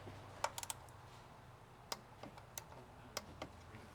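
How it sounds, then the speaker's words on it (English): A torque wrench ratchets as it tightens the oil drain plug on a 2025 Toyota Camry Hybrid to 30 foot-pounds, giving a handful of sharp, faint clicks spread irregularly over a quiet background. "We'll take our trusty torque wrench here and tighten this drain plug up to 30 foot-pounds."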